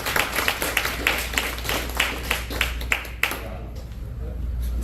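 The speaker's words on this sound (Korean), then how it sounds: "미디어 IT 2분 박수 한번 크게 쳐주시고요" Audience clapping for the media IT speakers at a Korean mission conference talk session, a loose run of claps at a steady pulse that fades out partway, with a low room hum underneath.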